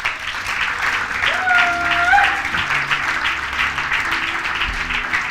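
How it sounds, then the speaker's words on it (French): A church congregation applauds and cheers at a Christian service, a loud, steady wash of clapping with a thin whistle rising briefly above the crowd noise. "Est-ce que tu peux acclamer pour le roi des rois?"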